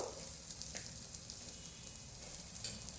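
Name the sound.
holige flatbread frying in oil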